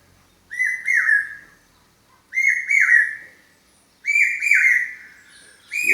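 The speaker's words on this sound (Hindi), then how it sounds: "अभी तुम पीछे सुन रहे हो ना, ये पक्षियों की आवाज़ें।" Outdoor birdsong: one bird repeats a bright, clear whistled call in four bursts, each about a second long, separated by short pauses, close and loud against a quiet background.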